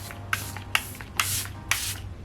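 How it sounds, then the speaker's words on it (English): Charlotte Tilbury makeup setting spray mists onto a face in four quick, evenly spaced spritzes, each a short close hiss, with quiet room tone between. "I'm going to go ahead and go in with the Charlotte Tilbury setting spray"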